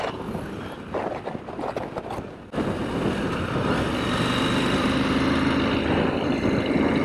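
A KTM 890 SMT motorcycle is ridden with its stock, rather quiet exhaust. A steady engine drone mixes with wind rush and grows into a constant, fuller roar after a brief dip.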